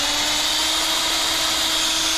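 A power drill boring steadily through a tractor spindle bore on an IH Hydro 84, a continuous loud whirring grind of metal under strain, with no pauses.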